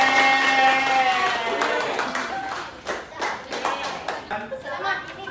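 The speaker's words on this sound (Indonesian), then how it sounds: "Tepuk tangan dulu" A group of children clapping their hands together in a classroom, brisk claps rising after loud talking, with voices mixed in throughout.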